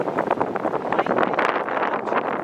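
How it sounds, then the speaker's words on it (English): Strong gusts hit an outdoor microphone in a vegetable garden where beets are being picked, a continuous loud rumbling buffet with no speech heard. "It's super windy right now, so hopefully you can hear me"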